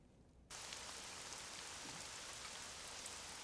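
Steady rain from a Sound Ideas 6036 library effect starts abruptly after a brief quiet lead-in, then continues as an even, dense hiss of drops falling on a surface, moderately loud with no voices.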